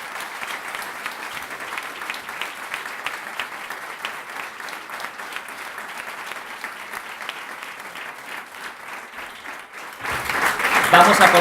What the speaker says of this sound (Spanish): ahora pediros pues un aplauso para ellas tres